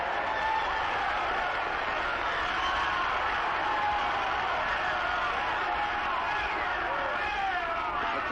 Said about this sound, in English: oh boy, listen to that crowd. They've just simply gone wild